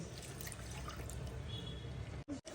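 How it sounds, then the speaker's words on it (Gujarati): Milk poured into a pan of maida flour roasted in oil, the base of a creamy Italian-style pasta sauce, gives a steady liquid rush and dribble that runs close and continuous before breaking off in two short gaps near the end. "જે આપણે એક કટોરી દૂધ લીધું હતું એ આમાં નાખવાનું છે"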